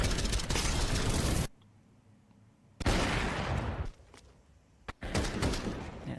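Gunfire bursts from a Counter-Strike 2 match between NiP and HEROIC, loud dense rattling volleys in three separate stretches with quieter gaps between them.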